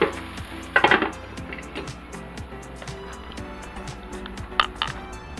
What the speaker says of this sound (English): So I'm going to just cover this and let it simmer